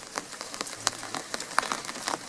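Rain falling in a garden after a long dry spell, a steady patter of drops with scattered sharper close taps on leaves and surfaces, fairly soft.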